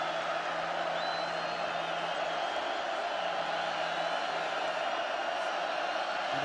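A football stadium crowd at a 2009 Oregon Ducks versus Purdue Boilermakers game roars steadily on a long-yardage down, a distant, sustained wash of cheering and shouts with a faint voice under it.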